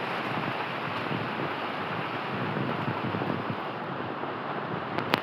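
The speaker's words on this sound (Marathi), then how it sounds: "पावसाचा जोर काही कमी होत नाही आहे" Heavy monsoon rain in Raigad, Konkan, Maharashtra pours down in a dense, steady roar of hiss, unbroken and close, with no voices.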